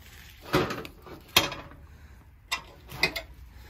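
Smoker lid shut after checking smoked ribs: a few sharp metallic clunks and rattles, close and moderately loud, with quiet gaps between.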